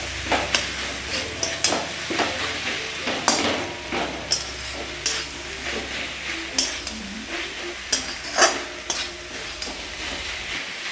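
Cabbage cooks in a pan with salt, sugar, ginger, cumin powder, chili powder and torn green chilies, making a low sizzle under repeated scraping and clinking stirs at an uneven rhythm.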